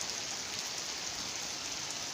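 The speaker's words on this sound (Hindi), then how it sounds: "रोडे टिके अंदर चंगी चंगी बारिश है अल्हम्दुलिल्लाह।" Heavy rain falls on a village, a dense, even hiss of drops on surfaces heard at a distance, constant and fairly faint throughout, with no voices.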